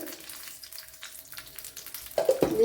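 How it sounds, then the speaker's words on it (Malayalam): Mustard seeds drop into hot coconut oil, starting with a quiet hiss and a faint tone, then breaking into loud crackling spurts of spluttering near the end. "അതിലേക്ക് ഇനി കടുക് ഇട്ട് കൊടുക്കുക"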